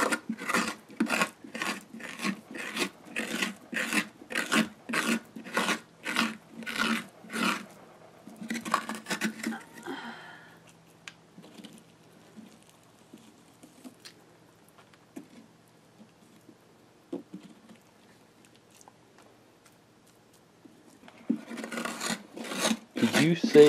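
Rhythmic rasping strokes of a tool scraping the inside wall of a carved Halloween pumpkin, about a dozen steady close strokes, a pause with faint handling, then scraping resumes briefly at the end.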